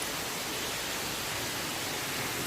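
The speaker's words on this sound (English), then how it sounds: "there's the waterfall again" A waterfall sounds from a rocky trail in Laurel Snow Pocket Wilderness near Dayton, Tennessee. It is a steady, even, broadband rush of falling water that does not change, with no voices.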